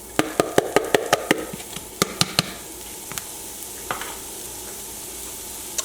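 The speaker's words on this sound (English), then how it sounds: "I'm going to coat the pan. That's good. We're going to add the shallots first." Shallots sizzle in an oiled pan, a steady frying hiss broken by a quick run of sharp utensil taps against the pan, then a few scattered knocks.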